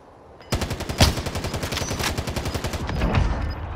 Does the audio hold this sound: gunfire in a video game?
yes